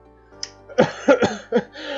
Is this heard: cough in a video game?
yes